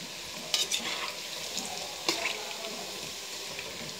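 Pakoras sizzle softly in hot oil, with faint stirring clinks and scrapes now and then.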